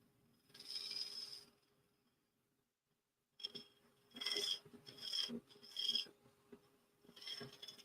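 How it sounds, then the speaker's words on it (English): Intermittent rasping strokes of sanding against a spinning turned pen on a lathe, in bursts separated by a quiet pause, close and fairly faint. "now for some sanding here"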